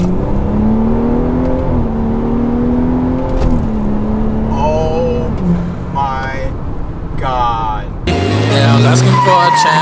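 A car with a Stage 3 XHP transmission flash accelerates hard at full throttle, engine note climbing through rising pitches with gear changes, loud and close, ending in a high-revving surge as a voice talks over it.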